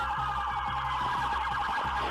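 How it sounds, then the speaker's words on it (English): Police sirens wail steadily under a constant low engine-like hum, a continuous warbling tone that stays loud and even throughout. "I don't know if the sirens are a really good idea."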